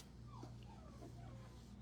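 Dogs whimper and yip faintly at a distance over a steady low hum, with no talking.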